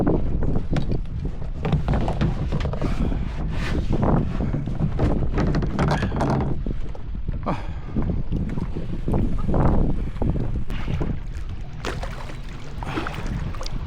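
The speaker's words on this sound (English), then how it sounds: "it's a little bit windy" Gusty wind buffeting the microphone outdoors on the River Thames, with occasional splashes and knocks of a kayak being paddled.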